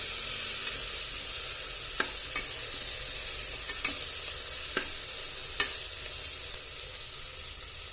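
Ginger paste fries in oil in a pan while a utensil stirs it, giving a steady close sizzle broken by sharp scrapes and taps every second or so.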